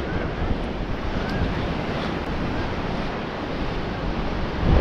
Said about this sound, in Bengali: আমি কিন্তু একদম সমুদ্রের কাছে চলে এসেছি।